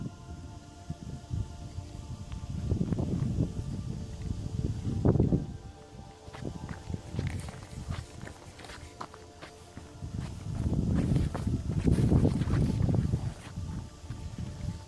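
Wind gusts over a coastal clifftop path in Brittany, rumbling and buffeting the microphone in swelling waves, with footsteps and a faint crunch of walking between gusts.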